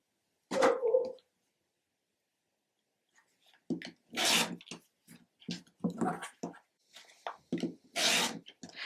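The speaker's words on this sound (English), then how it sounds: "I'm going to trim 1/4 inch from the sewing line on both of these sides" Sewn quilt fabric is trimmed a quarter inch from the seam: one short rasping cut, a pause, then a run of close, uneven cutting and rubbing strokes.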